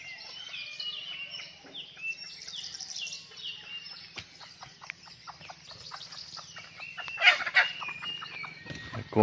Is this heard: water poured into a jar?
no